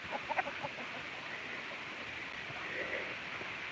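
Chickens on a central South Dakota farm cluck in short bursts close by, several soft clucks early and then a continuous low scratchy outdoor background.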